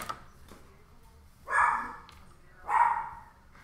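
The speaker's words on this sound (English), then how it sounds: "Why is my dog barking?" A dog barks twice in the background, two single muffled woofs about a second apart, fairly faint against a quiet room.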